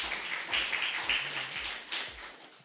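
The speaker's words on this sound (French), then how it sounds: "Je veux bien une salve d'applaudissements pour un peu réchauffer ici." Scattered applause from a small audience at an evening talk event, soft and somewhat diffuse with a few distinct claps standing out, fading toward the end.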